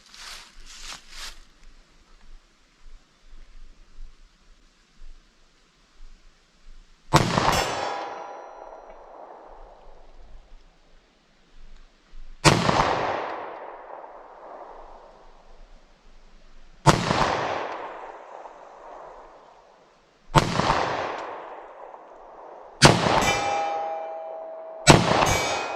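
9mm handgun shots ring off steel targets at 75 yards: six sharp reports, each followed by a metallic clang that decays over a second or two, spaced irregularly with quiet gaps between.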